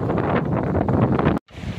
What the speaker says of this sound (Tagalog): Lakas ang hangin ah.